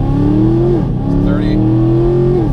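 A 2016-2024 Camaro SS on Toyo Proxes R888 tires pulls hard uphill from a standstill in sport mode, its V8 climbing loudly through two gear shifts with brief dips between.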